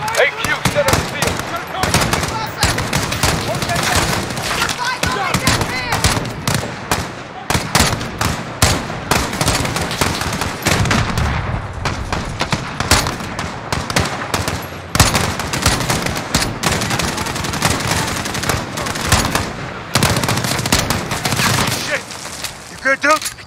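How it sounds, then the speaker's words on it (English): A battle in Call of Duty: Modern Warfare (2019) during a US embassy siege, with dense, continuous automatic gunfire and bursts of shots. Voices shout throughout the fighting. "I can't see where they're shooting from!"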